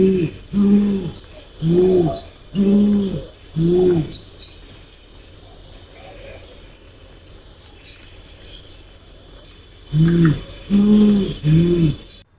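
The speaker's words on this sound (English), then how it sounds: "First, brown fish owl." A brown fish owl gives deep, hollow hooting in short paired bursts: a group of three or four hoots, a long quiet pause, then another group of three.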